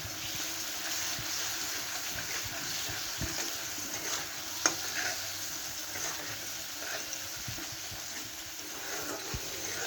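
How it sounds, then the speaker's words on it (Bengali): Spice paste with coriander powder and salt fries in oil for an egg curry, making an even, close sizzling hiss throughout with a few faint ticks from stirring. "এবার মশলাটা ভালো করে কষে নেব"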